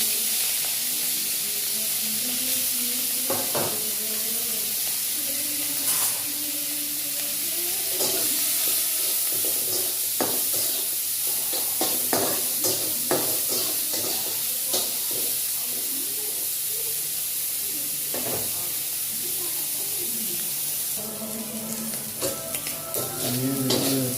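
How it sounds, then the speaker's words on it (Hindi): Shrimp frying in a hot pan with turmeric and salt, a steady loud sizzle and hiss running throughout with occasional scrapes and clinks of a utensil, no talking. "अब ये हल्दी और नमक डाल के थोड़ा फ्राई करेंगे"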